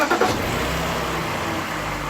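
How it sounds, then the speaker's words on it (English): A 2002 BMW 320i engine runs loudly at close range during an oil change, a steady idling drone after a brief rougher burst at the start. "Start the car now and check for leaks."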